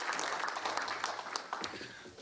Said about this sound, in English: So a round of applause for all those folks.